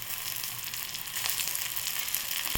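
Turmeric, chilli powder and chopped coriander sautéing in a home kitchen pan, a steady broadband sizzle holding close and even throughout, with a faint utensil tick near the end.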